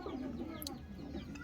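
A month-old pigeon chick gives soft, faint coos and a brief high chirp, heard close in a quiet setting.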